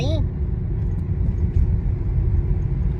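A steady, low engine rumble and road noise fill the inside of a moving car, loud and unbroken throughout, with a short high cry at the very start.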